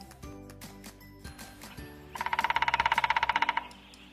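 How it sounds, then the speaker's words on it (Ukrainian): A woodpecker's rapid, even drumroll of about fifteen knocks rings out loud over soft background music, then stops. "Давайте послухаємо звуки дятла у лісі."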